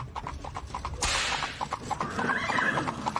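A horse neighs loudly once from close by, with clip-clop hoofbeats of a horse-drawn carriage thudding in a steady rhythm before and after it.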